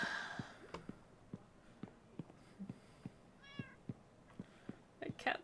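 A cat in the Minecraft 1.20.1 video game meows through glitched, distorted audio, one short warbling meow near the end over a quiet background with faint soft ticks, with no talking.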